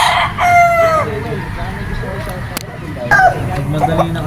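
A sweater gamefowl rooster crows at a game farm in the Philippines, with a clear crowing call near the start and a second shorter call later, over background farm noise and some talk.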